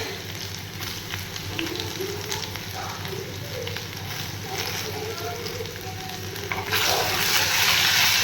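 Finely chopped ginger frying in a pan, a steady close sizzle and crackle with occasional stirring, growing louder and hissier near the end.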